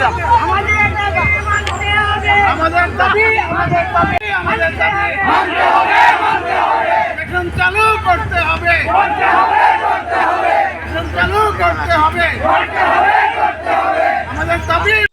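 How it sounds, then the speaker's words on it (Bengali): Hundreds of people at a human-chain protest at Satkhamair rail station chant a slogan demanding the station, loud rhythmic crowd voices rising and falling continuously in unison close by. "উপস্থিত শত শত মানুষ আমাদের দাবি স্টেশন চাই এই স্লোগানে মুখরিত করে তোলে পুরো এলাকা"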